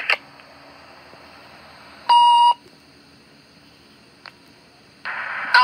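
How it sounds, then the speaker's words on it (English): Faint hiss carries a few short electronic beeps, then a sustained tone sounds for about half a second, and another burst of beeps follows near the end. "77 beeps before it came on, Gina."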